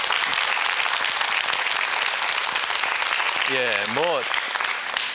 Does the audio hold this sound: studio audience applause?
yes